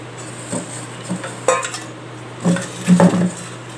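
Pani puri water being stirred in a vessel in a home kitchen, with several scattered metallic clinks and scrapes of a spoon against the pot, close and fairly quiet, with no talking.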